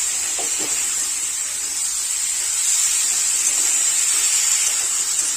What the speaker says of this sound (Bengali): মশলার সাথে আলু খুব ভালোভাবে নাড়াচাড়া করে কষাই করে নিতে হবে